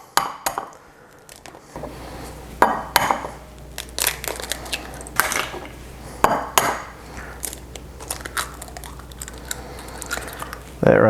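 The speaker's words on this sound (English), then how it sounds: "let's get our eggs cracked up here and get them in" Eggs cracked one after another for a rum cake batter: a series of sharp, close clicks and cracks, some with small wet spills, amid light handling noise and low background voice.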